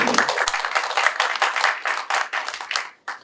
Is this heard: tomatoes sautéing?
no